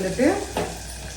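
Onions sautéing in a pan for a South Indian fish curry, a close frying sizzle with a quick stir scrape, and a voice briefly heard over it.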